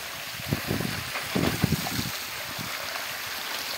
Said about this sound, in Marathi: बघू शकता पाण्याचा फोर्स 2 इंची डिलिव्हरीचा आहे।